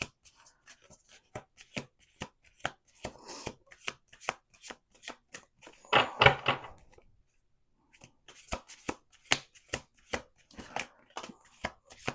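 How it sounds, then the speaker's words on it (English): Rapid riffle shuffles of a deck of cards, sharp clicking bursts in quick sequence, with a fuller flutter midway and brief pause before more shuffling. "Let's do 2 more shuffles."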